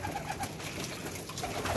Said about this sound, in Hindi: ले जी ये कबूतर है और नीचे ही इसकी फीमेल बैठी है